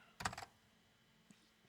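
A quick burst of four or five sharp key clicks comes from a Macintosh SE/30 keyboard entering shortcuts, followed by one faint later tap in an otherwise quiet room.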